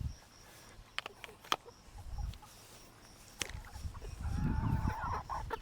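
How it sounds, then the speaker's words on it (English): Scattered sharp clucks and squawks from several chickens fighting over food, over a low rumbling background, building into louder agitated cackling toward the end. "those chickens are fighting over this food"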